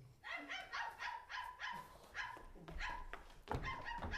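A dog barking offstage during a stage performance of Molière's comedy The Miser, giving repeated barks at a moderate distance.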